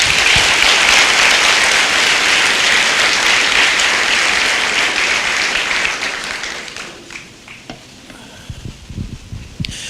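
A church congregation applauding Jesus during a sermon, loud dense clapping from a crowd that fades out over the last few seconds into scattered claps and room noise.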